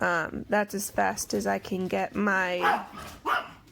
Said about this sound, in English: and he was barking at my other dog that's outside on his leash